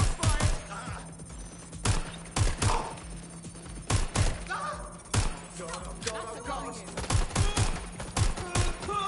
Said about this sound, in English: Stop careful! Shooting!